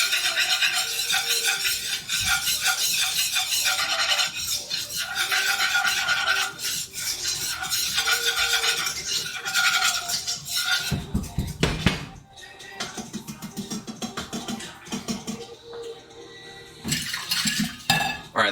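A Thai curry is whisked briskly in a pan, producing a rapid, rasping scrape of metal against the pan bottom that pauses briefly and then starts again.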